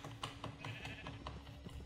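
Short nasal bleats from a sheep in Minecraft come in quick succession, moderately loud, mixed with faint clicking ambience.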